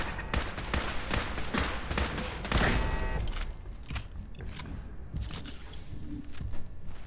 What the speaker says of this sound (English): These damn turrets.